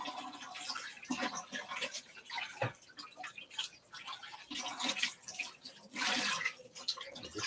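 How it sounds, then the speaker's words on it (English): Juicer parts rinsed under a running tap, a steady broadband splash of water with shifting surges as pieces are turned in the stream, close and fairly quiet with no talk. "Just give it a rinse."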